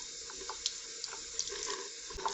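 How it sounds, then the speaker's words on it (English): A kitchen tap runs water into a sink in a steady, fairly quiet stream, with small splashes and drips ticking over the flow and no voices. "So just run a water."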